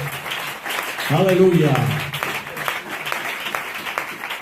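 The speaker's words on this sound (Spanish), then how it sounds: "Un aplauso bueno para el Señor." Church congregation clapping in praise during a Spanish-language evangelical service, a dense patter of hands running throughout while a voice calls out an exclamation over it midway.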